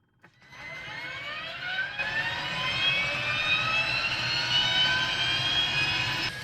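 A Mini 500 helicopter engine spins up in a flight simulator game, a rising whine climbing steadily in pitch over a low rumble and settling into a loud, steady turbine-like drone with no talking.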